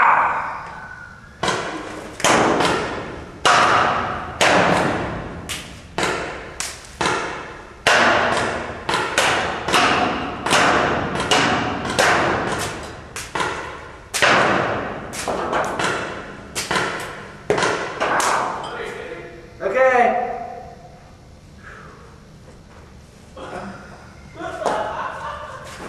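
.68 caliber paintballs fired from 150 feet strike a target in a long run of sharp thuds and slaps, rapid and irregular, with voices talking through and after the volley.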